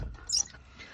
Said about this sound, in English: my brayer is as squeaky as my desk